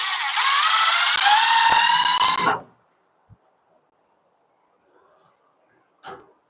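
A power drill driving a self-tapping screw: a loud, close whirring whine that shifts in pitch for about two and a half seconds and then cuts off, followed by near silence and a couple of faint knocks.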